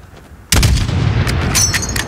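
Single loud, close gunshot boom in Call of Duty Modern Warfare, breaking abruptly from quiet and followed by a long rumbling tail and scattered crackles.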